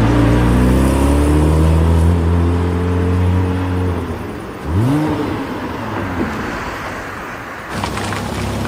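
Car engine running and revving, a loud close droning hum that dips and rises once in a brief rev before settling back to a steady idle-like rumble.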